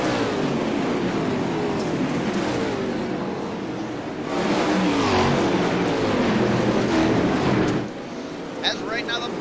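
410 sprint race cars roar around an oval track, their engines loud and rising as they accelerate and sweep past, with a commentator's voice over the noise.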